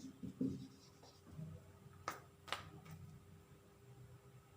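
A maths question being written out by hand, soft close scratching strokes of pen or chalk in short bursts with a few sharper taps, quiet with no talking.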